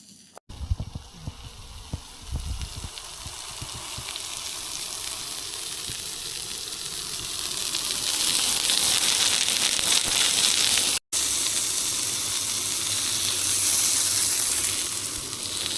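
Food frying on a camp stove outdoors on the Scottish coast during a bikepacking trip, heard as a steady, continuous hissing sizzle that swells louder midway and stays broad and constant, with a few low bumps near the start.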